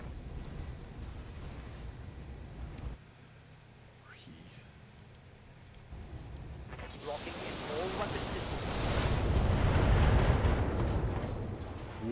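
Mech weapons firing and exploding in the Battletech tabletop-style video game: a rumbling burst, a quieter lull, then a long swelling roar of fire and explosions that peaks loudly before easing slightly.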